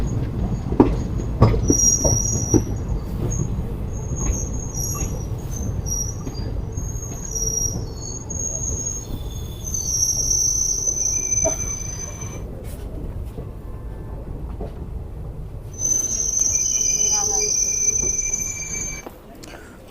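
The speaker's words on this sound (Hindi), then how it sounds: "हमारी ट्रेन यहाँ फ़िलहाल बिलासपुर रोड पर आ चुकी है।" The Ranikhet Express rolls into Bilaspur Road station with a low rumble of wheels, high shrill squeals from the brakes and rails, and occasional clanks, all heard from on board.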